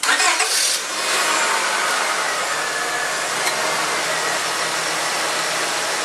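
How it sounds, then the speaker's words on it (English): A car's engine starts during an automatic transmission fluid flush, then runs at a steady, loud idle close by. "let's start our engines"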